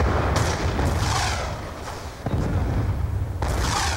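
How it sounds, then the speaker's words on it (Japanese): Gunfire in Call of Duty: Black Ops 2 rattles at mid distance in a few loud bursts with booming low rumble, a brief lull in the middle, then the shooting resumes. "めっちゃポンポン撃ってるよ。"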